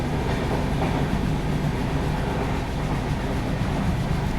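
August Kranti Rajdhani Express running on its tracks, heard from inside a 3 AC coach as a loud, steady rumble with continuous wheel clatter and no pauses.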